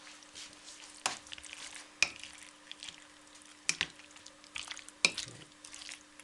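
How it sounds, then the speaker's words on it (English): A Jerusalem artichoke salad with egg is stirred and mixed in a bowl, giving several sharp, close utensil scrapes and wet squishes at irregular intervals over a quiet background. "Stir, mix all together."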